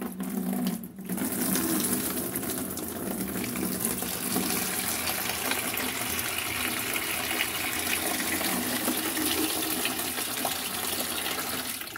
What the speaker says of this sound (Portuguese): Então, eu vou colocar aqui nessa bacia a água.